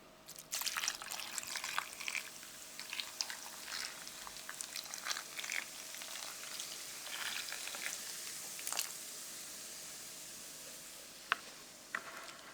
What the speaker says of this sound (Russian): На овощную подушку укладываем рульку и заливаем пивом